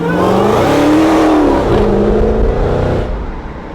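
Dodge Challenger Super Stock engine revs hard once, a loud close roar that rises and falls over a few seconds before easing off, with no talk.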